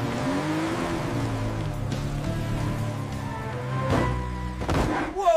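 A Robocar Poli cartoon car drives down a bumpy road on a camping trip, its engine humming steadily with a rising tone, then a couple of louder jolts and rattles near the end.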